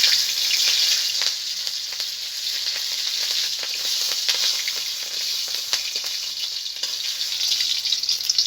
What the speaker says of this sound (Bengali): আমি ফোড়নে দিচ্ছি কালো জিরে, আর দেবো দুটো কাঁচা লঙ্কা